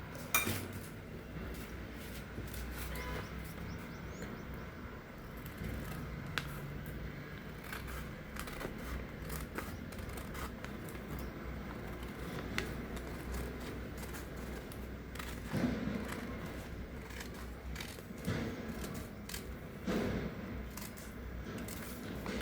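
Scissors snip through paper while a petal shape is cut for a rangoli design, with repeated small crisp clicks and rustles at close range, fairly quiet and continuous, no one talking.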